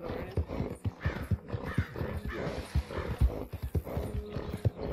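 Horse hooves clip-clop in a steady, rhythmic gallop in Red Dead Redemption 2, close and moderately loud, with the occasional snort and no talking.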